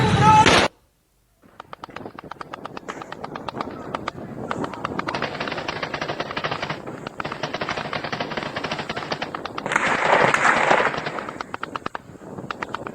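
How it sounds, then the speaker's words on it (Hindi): Sustained bursts of automatic AK-47 rifle fire during unrest in Pakistan's Punjab, rapid cracking volleys repeating for over ten seconds after a brief opening blast, dense and loud with no clear pauses. "ये ऐसी आवाज ऑटोमेटिक वेपन से जब गोली चलती है तब आती है।"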